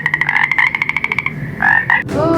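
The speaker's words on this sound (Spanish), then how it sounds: "El sapo. ¿Cómo hace el sapo?" A toad croaks in a fast pulsing trill of rapid repeated notes, then gives a few shorter separate croaks, loud and close.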